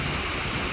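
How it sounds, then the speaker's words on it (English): Steady rain falling at night during a stormy spell, a continuous close, even wash of drops with no voices heard. "Ooh-wee, raining again tonight."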